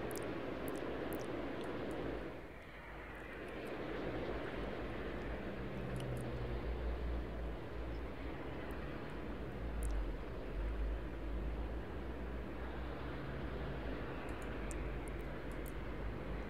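Airliner engines roar steadily through a takeoff roll in the Tower 3D Pro air traffic control game at Memphis, a broad continuous rumble with a brief dip early on, with no talk over it.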